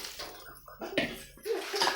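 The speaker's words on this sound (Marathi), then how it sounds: "हिला आता पाणी वतून आपण ओल्लं करू" Cold water is poured over puffed rice to soak it, arriving in a few short splashing bursts with brief pauses between them, close by and with no talking.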